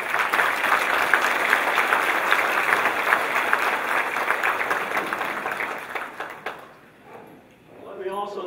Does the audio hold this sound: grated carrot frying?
no